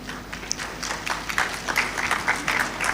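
Audience applause at a university graduation congregation ceremony, fairly soft and distant in a large hall, with scattered individual claps rising and falling under a faint voice.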